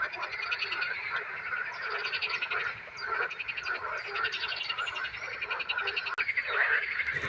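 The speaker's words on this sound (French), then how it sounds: "c'est sur ce concert endiablé des grenouilles que je termine ma pêche" A large chorus of frogs croaks in a pond, dense overlapping rapid calls that pulse continuously at close range, with no voices.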